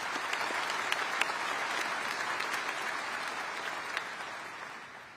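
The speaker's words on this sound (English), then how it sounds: "Let's give them a round of applause." Steady applause from a large audience at a high school graduation ceremony, a sustained dense clatter of many hands that holds evenly, then fades slightly at the end.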